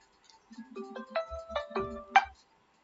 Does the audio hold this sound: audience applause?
no